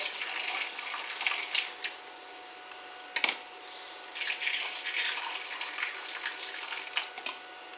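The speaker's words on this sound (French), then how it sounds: "Avec notre eau bouillante." Boiling water poured from a saucepan while cooking seeds outdoors, a trickling, splashing stream with faint ticks and clinks, fairly quiet with short pauses, no talk.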